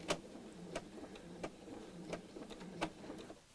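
Domestic sewing machine stitching a dust cover at regular stitch length, a steady mechanical whir punctuated by sharp clicking ticks at uneven intervals, close and alone with no talk.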